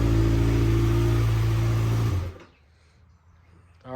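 A Kawasaki Ninja ZX6R sport bike on its stock exhaust revs inside a garage with a loud, steady, buzzing engine drone that cuts off abruptly about halfway through, leaving near silence.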